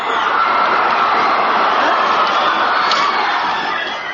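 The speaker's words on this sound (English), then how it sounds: "But the crowd erupted in protest." Large crowd in Bucharest erupting in protest, a dense, loud, sustained roar of shouting and whistling voices with no pauses, fading slightly at the end.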